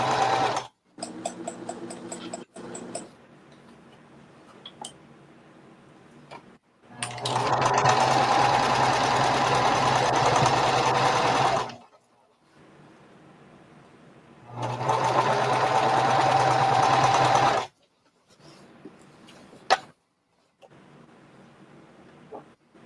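Two bursts of a sewing machine top stitching around a bandana tote bag, each a loud, close, steady whir of several seconds, separated by quiet handling sounds.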